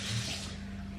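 Water poured into a glass while making iced coffee, a short close liquid rush that fades slightly over a brief moment.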